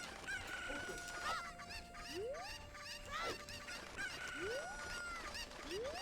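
Video-game chickens cluck and crow in a lively farmyard mix, with squawks and rising calls repeating over a faint, continuous background bed.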